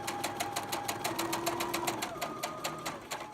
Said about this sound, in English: And continue sewing all the way